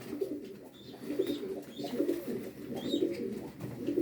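Young pigeons, one crested and one plain-headed, cooing steadily in low, repeated murmurs close by, with faint chirps above and no talking.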